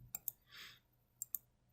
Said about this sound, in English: just clicking on that page too.